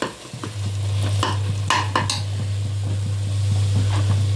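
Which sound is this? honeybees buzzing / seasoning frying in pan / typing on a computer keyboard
seasoning frying in pan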